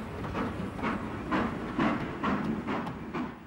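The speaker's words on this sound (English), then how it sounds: "Flying Scotsman is probably the most famous train in the world" Flying Scotsman, a steam locomotive, passes with a rhythmic run of wheel-and-rail clatter and steady hiss, pulses repeating about every half second at a fair distance and moderate loudness.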